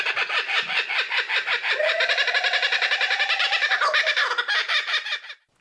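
Birds at a lodge on Australia's Sunshine Coast squawk loudly and close by in a rapid, rhythmic run of harsh repeated calls that carries on for about five seconds and then stops abruptly.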